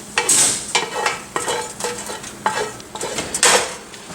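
Cooked pasta is stirred into a chicken and cherry tomato bolognese meat sauce in a pan, a spoon scraping and clinking against the metal in a steady series of wet strokes, with a soft sizzle underneath.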